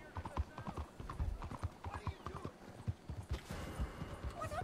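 Hooves clip-clop in a quick, steady rhythm as a horse gallops nearby in the video game Red Dead Redemption 2, with a whinny and talking mixed in.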